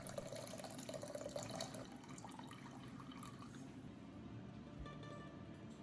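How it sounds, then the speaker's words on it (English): Water from a container poured into a pot in a home kitchen, a faint, steady liquid stream with gurgling and splashing that changes pitch as the pot fills and then thins out. "carefully pour all of that water into a pot"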